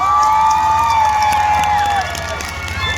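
An outdoor festival concert crowd cheers and whoops, with shouts and a few claps rising over a loud sustained wash of voices, easing slightly near the end.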